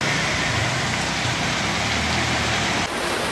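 Heavy rain pours during Hurricane Melissa in Kingston, Jamaica, a dense and steady hissing roar that stays constant throughout with no voices.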